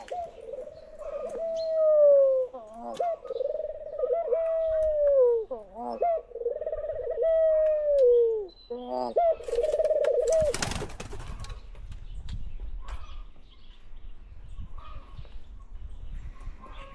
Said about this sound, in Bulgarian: Някакви хубави гугутки, гълъб.